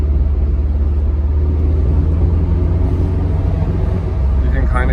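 A Mercedes SL500 with vacuum leaks being repaired drives in a lower gear, its engine a steady, loud low rumble with road noise running throughout.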